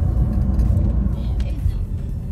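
A car drives along at steady speed, its engine and road rumble forming a loud, continuous low drone heard from inside the cabin, with faint voices now and then.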